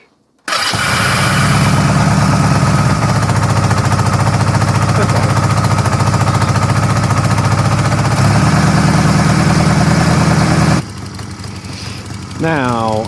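A Honda CB250 Nighthawk motorcycle engine starts and idles loudly with a steady, rapid chugging rhythm, close up, before cutting off near the end.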